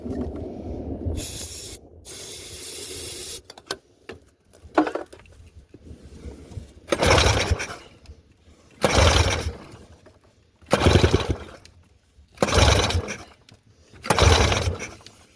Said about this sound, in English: I'm not having any luck with the pull start